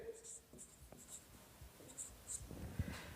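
Chalk or marker writing on a board in a physics class: faint, scratchy strokes in short bursts, heard under a teacher's speech.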